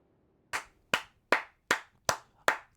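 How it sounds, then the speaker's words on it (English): Six sharp hand claps in an even rhythm, close and loud against near silence, cheering a hard-won boss victory in Elden Ring. "That deserves a round of applause"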